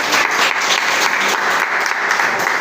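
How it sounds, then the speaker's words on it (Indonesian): A crowd of students and teachers gives sustained applause during a group performance assessment in a classroom, dense steady clapping filling the whole span with no talk over it. "Oke, kasih semangat tepuk tangan dulu dong."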